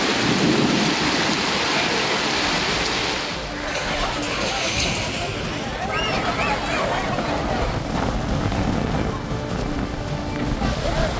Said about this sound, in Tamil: சிவகங்கை, மானாமதுரை மற்றும் காரைக்குடி சுற்றுவட்டார பகுதிகளில் பலத்த காற்றோடு கனமழை.